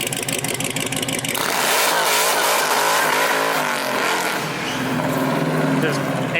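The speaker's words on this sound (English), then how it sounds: "Just burned the tires right off." A Hellcat-swapped Dodge Lancer GT drag car does a burnout, its supercharged engine roaring and revving hard while the tires squeal and smoke against the pavement. Loud and close throughout, with brief voices underneath.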